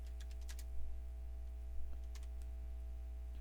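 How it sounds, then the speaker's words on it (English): Someone types on a computer keyboard to enter text while setting up Windows 7 in VirtualBox. A few quiet key clicks sound close by over a steady low electrical hum, with no talk. "we're going to type in Windows 7."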